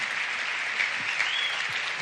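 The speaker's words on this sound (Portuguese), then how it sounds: "Dá uma salva de palmas para esse casal maravilhoso." A crowd at a national youth church conference gives a couple a round of applause. The clapping is loud, sustained and evenly dense throughout, with no talking on top.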